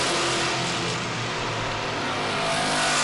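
Race cars roar past on a short-track oval during a New England race, a loud, continuous engine drone that swells and fades slightly as they go by.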